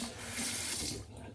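Near-hot water running from a bathroom sink tap, a steady close hiss and splash lasting a moment before cutting off.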